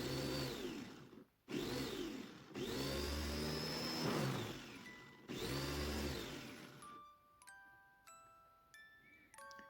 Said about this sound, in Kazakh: Енді осындай пияздарымызды шопперге салып, кішкене су құйып жіберіп,